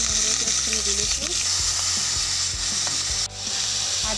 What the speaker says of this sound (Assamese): আদা নহৰুখিনি অলপ ৰংচোৱা হ'লৈকে ভাজি থাকিম।